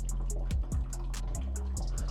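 Water flows steadily into a coffee machine's drip tray with a continuous trickling pour, broken by irregular gurgles and drip splashes close by.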